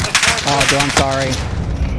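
Rapid gunfire in a hardcore Call of Duty multiplayer match, loud and continuous bursts with voices talking over the shooting throughout.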